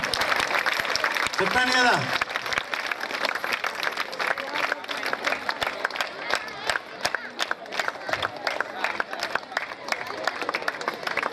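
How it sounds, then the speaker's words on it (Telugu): Students at an annual day event clap in dense, fast bursts that carry on throughout, while a voice speaks briefly over the noise near the start. "మీరు చప్పట్లు కొడుతూనే ఉండాలి గట్టిగా"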